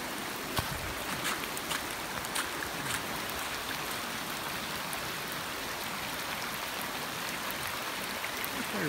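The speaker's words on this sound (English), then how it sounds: "That's where the other creek comes in from behind the yurt. This is where the two combine." Creek water rushes where two creeks combine during a storm, a loud constant broadband roar with occasional splashy drips, close and unbroken.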